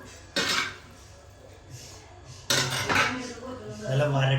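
A spoon scrapes and clinks against a pot of chicken curry being stirred in a home kitchen, in short bursts of clatter with a pause between, close and fairly loud.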